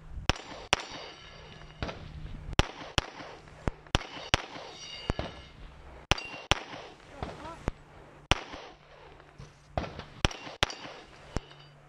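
Sharp, loud gunshots fired at a shooting competition stage, coming in irregular single and double cracks spread over several seconds, with ringing steel-target clangs and faint background talk.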